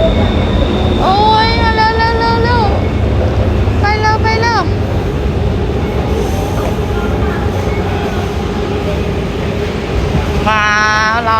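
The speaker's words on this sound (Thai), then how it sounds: "มาแล้วรถไฟฟ้ามาแล้ว" A train rumbles in steadily while a high electric whine rises and falls in bursts, with people talking nearby over the noise.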